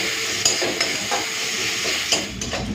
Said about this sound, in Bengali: পেঁয়াজটাকে লাল করে ভেজে নিই